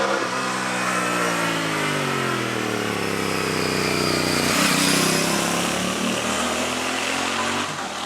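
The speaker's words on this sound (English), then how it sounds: "Air cooled, old school, just has a great thrum to it" Royal Enfield Bear 650 air-cooled twin motorcycle engine thrumming loud and close, pitch rising and falling steadily as it pulls along, with rushing wind noise throughout.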